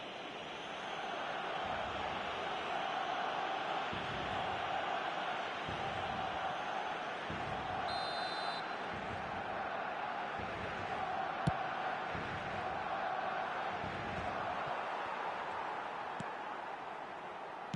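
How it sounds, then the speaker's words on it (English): Steady stadium crowd roar from a football video game, a broad continuous wash of murmuring spectators holding at an even level throughout with faint rhythmic surges and a couple of brief sharp accents. "the crowd have tried to spark some excitement, but to no avail"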